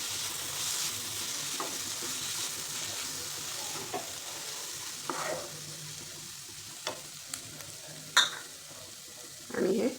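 Soaked moong dal goes into a hot pan and is stirred through a steady low sizzle, with scattered scrapes and clinks of the spoon against the pan and a louder knock near the end, no voices.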